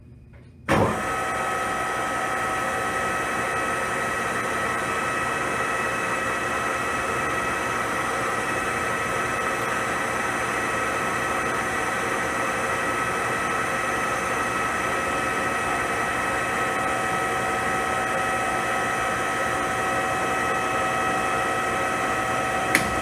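A metal lathe in a college workshop starts up and runs while a centre drill is peck drilled into a workpiece, giving a steady, even mechanical whine and hum that continues throughout with no talking.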